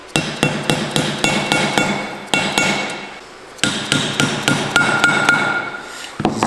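Steady hammer strikes seat valves into a VW TSI cylinder head on the bench, quick metallic knocks in bursts with a short pause midway, close and loud, no voices.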